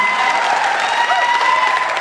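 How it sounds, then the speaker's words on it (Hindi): At a Hindi comedy poetry gathering, a crowd claps loudly and steadily through a brief stretch, with a faint tonal hum underneath. "ताली एक बार जोरदार बजा दीजिए तो मैं शुरू हो जाऊं"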